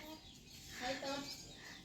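A chicken at a rural home clucks faintly in short, scattered calls amid broad background noise, without clear speech over it.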